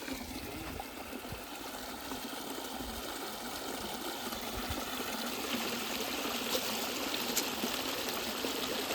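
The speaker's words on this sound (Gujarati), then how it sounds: "બહુ જ ધીમું આવે છે પાણી" Irrigation water trickles slowly through a pipe into a field on a guava farm, a soft, steady hiss of flowing water that stays continuous and fairly faint with no voices.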